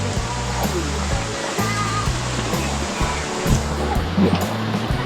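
A waterfall pours in a loud, continuous rush of water close by, with faint voices now and then in the background.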